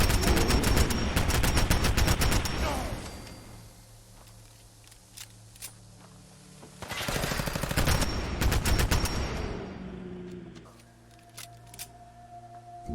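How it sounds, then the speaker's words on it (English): Bursts of rapid 10mm automatic pistol fire in Fallout 4, a loud rattling volley at the start, a quieter gap with scattered shots, then a second sharp burst before the firing tapers off. "10mm automatic pistol. They do a hell of a lot of damage in a hurry."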